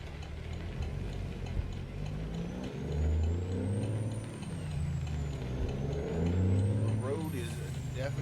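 An eighteen-wheeler in American Truck Simulator on a slippery road, its engine droning low while air brakes hiss and release, with someone talking over the sound.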